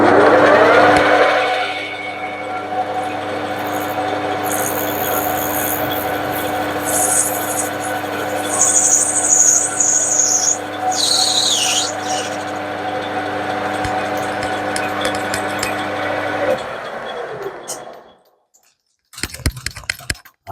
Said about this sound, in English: So we're just going to do a facing cut.